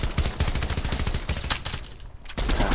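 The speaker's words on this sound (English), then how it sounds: "he's getting shot at" Rapid bursts of gunfire in a Fortnite squads match, loud and close, crackling in quick repeated volleys with a brief lull near the end before shots resume.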